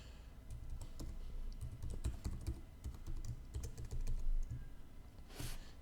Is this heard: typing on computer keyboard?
yes